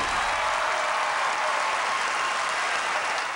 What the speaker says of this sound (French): Applaudissons Caitlin Taylor-Love!